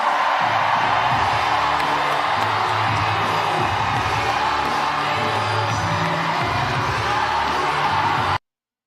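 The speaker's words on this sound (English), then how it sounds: "the crowd is going wild" A large crowd cheers and whoops steadily at a Kamala Harris campaign rally in Detroit, Michigan, a loud, continuous roar with shouts and music beneath it that cuts off abruptly at the end.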